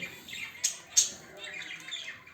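A whiteface budgerigar chick gives a couple of short, faint squawks amid soft chirping, quiet and close.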